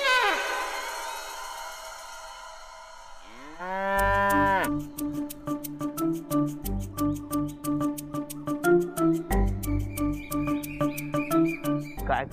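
A buffalo gives a long, drawn-out moo at close range, followed by rhythmic music.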